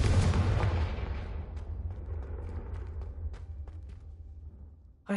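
A Confringo fire spell in a Hogwarts video game bursts in a loud booming blast, then rumbles and crackles away over several seconds, with a sharp hit returning at the end.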